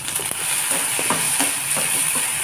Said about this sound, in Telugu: బాగా వేయించుకున్న తర్వాత ఇందులోకి కొద్దిగా కరివేపాకు వేసుకొని వేయించుకోవాలి